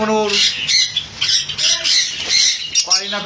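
Pet conures and lovebirds at a bird sale squawk loudly and continuously in harsh, overlapping bursts close by, with some background voices.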